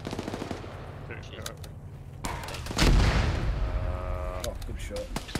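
Arma 3 gunfire: scattered rapid shots build into a heavy boom and sustained bursts of automatic fire, loud and close, with voices talking amid the battle.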